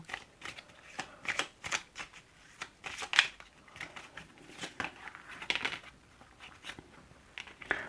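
Tarot cards being shuffled, a steady run of soft papery riffles and snaps with short bursts throughout, close and fairly quiet, with no talking.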